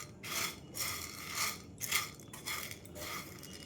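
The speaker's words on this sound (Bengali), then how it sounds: "দেখো চুটুর পুটুর করে আওয়াজ হচ্ছে, মানে এটা ভাজা হয়ে গেছে।" Dry sago pearls roasting in a pan without oil give soft gritty crackles and scraping rasps, coming in several short bursts close by.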